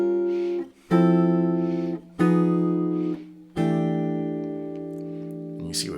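A jazz guitar plays a rootless-voicing 1-6-2-5 comping sequence ending on C6/9, four sustained chords struck one after another and left ringing, the last held and decaying, with a faint voice counting in at the start.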